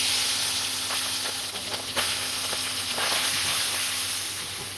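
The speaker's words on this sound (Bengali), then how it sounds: "তেল গরম হয়ে গেছে, মাছগুলো ভেজে নেব" Tangra fish frying in hot mustard oil during home cooking gives a steady, close sizzle with scattered crackles and pops throughout, and no voices.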